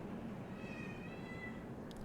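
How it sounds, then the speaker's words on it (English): A cat meows faintly in the background, its drawn-out call thin and distant over a steady low room hum, with no talking. "If you hear a loud noise in the background, it's my cat."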